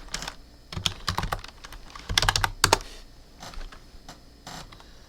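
Clattering bursts of keystrokes on a computer keyboard, close and uneven, with quick flurries and short pauses between them.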